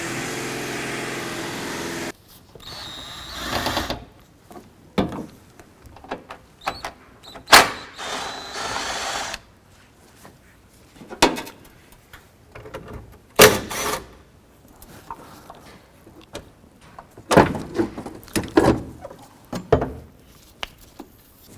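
An 8mm socket on a ratchet loosens bolts on the windshield wiper transmission of a 2001-2007 Ford Escape, heard as irregular close clicks, clanks and ratcheting bursts separated by short quiet gaps, with a brief steady hum at the start.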